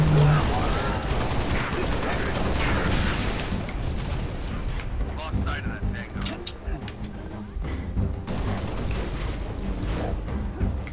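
Gunfire in Halo: Reach rattles in steady bursts mixed with booms and mechanical clatter, running throughout under people talking.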